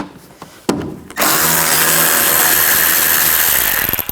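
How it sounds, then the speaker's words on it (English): A power driver fitted with a T20 socket spins out screws along the top of a headlight panel on a 2009-17 Chevy Traverse, a few short bursts followed by a steady, loud whirring run, close up. "Now we're going to take these screws out. They're all on the top here. Use a T20 socket."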